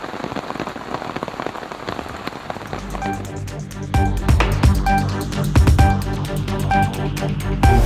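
Steady heavy rain pours down in Puducherry, with a dense broadband hiss that swells louder partway through, and some tonal hum mixed in underneath.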